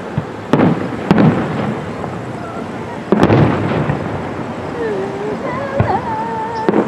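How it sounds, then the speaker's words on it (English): Fireworks go off in the distance during a show, with several sharp booms and crackling bursts spread unevenly over a steady background rumble, and a voice that sounds like a whining dog near the end. "They're not watching shows, they're watching fireworks."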